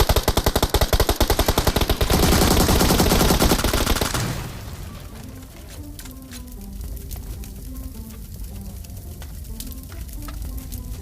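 Rapid automatic gunfire in the battle royale game PUBG: a loud, dense burst of machine-gun shots for several seconds, then quieter scattered shots and game sounds continuing underneath, no voice heard.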